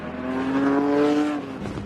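Classic Lamborghini Countach sports car engine roaring loudly up close, a sustained harsh revving bark held for over a second before easing off, heard alone without talk.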